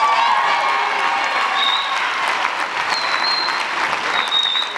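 A graduation audience at a high school ceremony applauds steadily and loudly, with cheering and a few high whistles rising over the dense clapping throughout.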